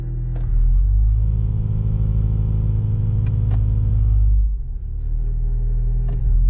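A Honda Civic idling with a heavy low rumble and strong vibration, a steady drone close by that drops and shifts briefly near the end before settling again; a few faint clicks sit over it.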